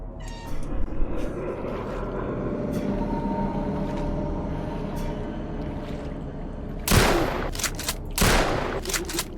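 Video game gunfire crackles in rapid bursts over a dense, busy background of game noise, with sharper loud shots near the end.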